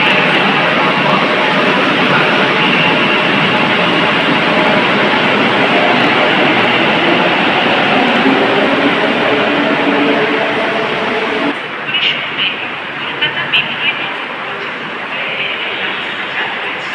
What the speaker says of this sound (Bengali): এটা সল্ট লেক স্টেডিয়াম মেট্রো।